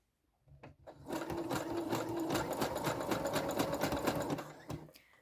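A sewing machine set to a 3.5 zigzag width stitches elastic onto activewear fabric, running in a fast, steady mechanical chatter for about four seconds after a short start, close and clear.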